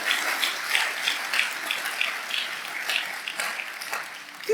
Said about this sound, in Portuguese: Essas palmas são fracas.